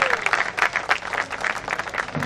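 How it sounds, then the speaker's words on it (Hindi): A crowd at a stage event bursts into loud, close applause for a leader, a thick wash of clapping lasting a couple of seconds. "नागराज जी के लिए जोरदार तालियां।"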